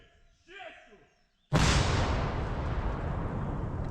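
An artillery gun fires one sudden, loud blast that rolls off into a long, rumbling decay, with a brief voice heard in the quiet moment before the shot.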